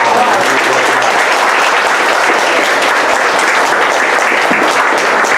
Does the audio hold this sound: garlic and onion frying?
no